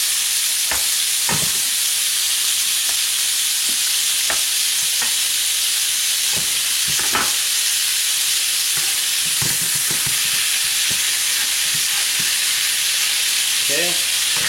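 Scallops searing in a hot pan with herb butter give a loud continuous sizzle and hiss, broken by scattered clinks and scrapes as they are turned and basted.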